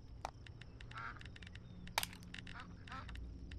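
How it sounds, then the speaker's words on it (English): Ducks quacking in the survival video game Night of the Dead, a run of short nasal quacks repeating quickly against a low game ambience, with a person talking over them. "I hear you, duck."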